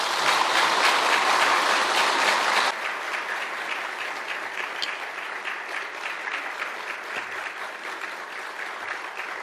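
A church congregation claps together in a dense, lively burst that settles after a few seconds into slightly softer, sustained applause filling the hall.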